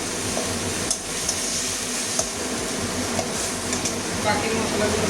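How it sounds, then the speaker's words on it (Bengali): Garlic and tomato paste frying in a pan for a curry, a steady soft sizzle with occasional stirring scrapes, close up and without talking. "এটাও ভেজে নেবো কাঁচা গন্ধ যাওয়া পর্যন্ত।"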